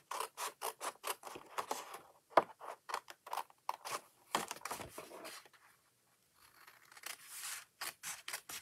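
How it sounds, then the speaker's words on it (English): Scissors snip a notch out of light-colored paper for a card fold: a close, quiet run of short crisp cuts in irregular bursts, a brief pause near the end, then more snips. "I'm going to cut this notch out."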